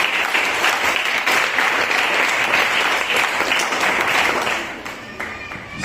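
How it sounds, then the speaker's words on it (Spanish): A church congregation gives a sustained, dense round of applause that holds steady, then thins and fades toward the end. "¿Cuántos dan ese aplauso al Rey de Reyes?"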